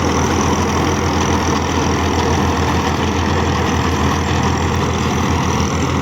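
A 1971 Ford 4000 tractor runs a 48-blade rotavator in a field, a loud continuous low engine drone with steady churning that holds without a break throughout.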